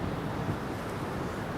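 Strong gusty wind blows at Newcastle Airport, roaring continuously and buffeting the microphone close up in a dense, steady rush.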